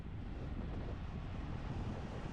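Strong wind rushes past while cycling on a bike, a steady, low, rumbling buffeting that stays constant throughout without any voices.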